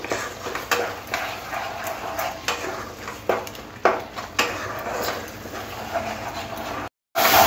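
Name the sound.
frying and stirring prawn paste with spices in a pan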